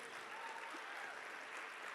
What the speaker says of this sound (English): extra stand-up round of applause for our Healing House participants for their hard work tonight